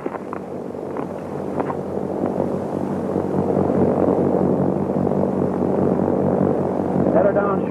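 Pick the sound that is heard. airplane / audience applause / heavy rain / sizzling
airplane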